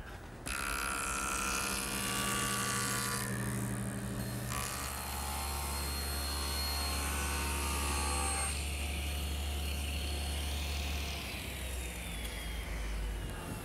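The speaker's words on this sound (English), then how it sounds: "The first thing is to get a nice straight square edge, and that's best done at the joiner." A jointer squaring the edge of a wood panel runs loud and steady for most of the stretch, its tone shifting partway as the cut changes, then the motor winds down near the end.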